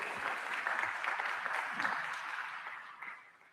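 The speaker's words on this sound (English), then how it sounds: "go ahead, you're always allowed to applaud." An audience at a military air and space symposium applauds in a steady, moderately loud round of clapping that fades out toward the end.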